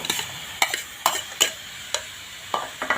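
Fatty beef stirred in a pan for a spicy Thai-style stir-fry, with a light sizzle under a series of sharp spatula scrapes and clinks against the pan, spaced irregularly about half a second apart.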